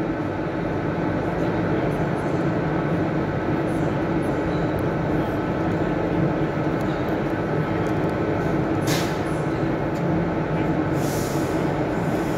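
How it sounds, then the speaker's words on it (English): Train 39137 pulls out of Edinburgh Waverley bound for London Euston, producing a loud, continuous rumbling roar of rolling stock that stays steady from start to finish. "with 39137 leaving to London Euston for the next station"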